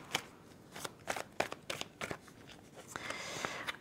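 Tarot cards being shuffled by hand, a series of crisp riffling snaps and soft slides at an uneven pace, close and moderately quiet, without talk.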